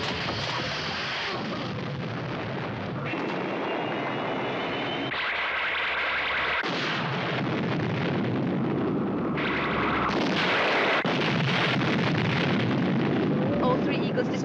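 Eagle spacecraft are destroyed in a Space 1999 scene, heard as loud sustained rumbling blasts and roaring engine-like noise that fill the soundtrack, with bursts of muffled dialogue over it.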